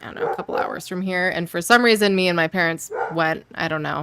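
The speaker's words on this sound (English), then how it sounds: "Sorry for the barking." A dog barks and yips several times in the background while a person keeps talking in the foreground; the barks are partly masked by the speech.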